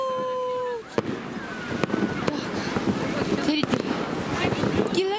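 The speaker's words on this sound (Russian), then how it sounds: "Салют!" Outdoor fireworks at a city winter walk near a New Year tree, with sharp cracks and bangs scattered over several seconds against wind noise on the microphone.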